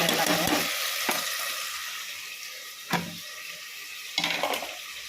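Tomato and onion sautéing in a pan for a mutton dish, with a steady sizzle and several sharp stirring scrapes as the spoon moves through the food.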